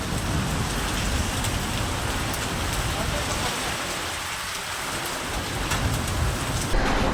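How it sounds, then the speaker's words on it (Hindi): A sudden monsoon downpour with hail pours over Udaipur, a loud, dense, unbroken hiss of heavy rain striking surfaces nearby that lasts throughout. "ओलों के साथ ओले पड़ते हुए"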